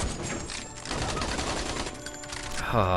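Punisher's special 2 attack in Marvel Contest of Champions, a rapid stream of loud gunfire in dense bursts that ends in a rising electronic tone.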